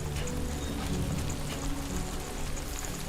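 Steady rain falls in the video game Death Stranding 2, a dense, continuous patter and wash of drops on surfaces with a low ambient rumble beneath, unbroken throughout and with no voices.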